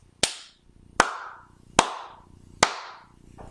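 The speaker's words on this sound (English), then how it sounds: "Our flat hands do palmas claras," Four loud, crisp flamenco palmas claras claps with flat hands, evenly spaced about three quarters of a second apart, each ringing briefly in a quiet room.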